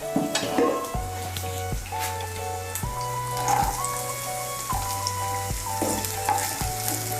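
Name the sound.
chopped beans frying in a pan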